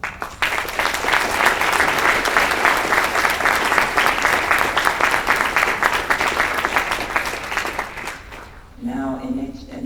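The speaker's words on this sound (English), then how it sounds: "give your parents and your family community a big round of applause" A big round of applause from the audience at a high school National Honor Society induction ceremony, a dense, sustained clapping that fills most of the stretch before fading out near the end as a voice resumes.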